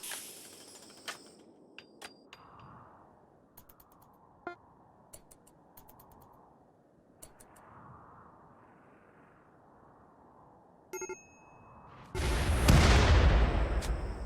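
Artillery shells fall in the game Rimworld as scattered sharp distant thuds and clicks over a quiet ambient bed, ending in a loud, sustained roaring explosion.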